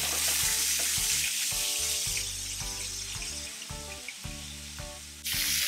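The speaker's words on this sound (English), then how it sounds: "Now for this thickness, you can grill the salmon for 3 to 4 minutes on each side." Salmon fillets grilling on a griddle give a steady close sizzle through the whole stretch, with music playing underneath.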